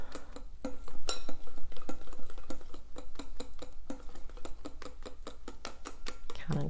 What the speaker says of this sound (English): Kind of incorporating it as I'm adding it, whisking it around.